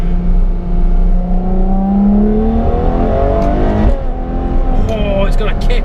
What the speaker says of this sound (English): Watch how quickly this downshifts.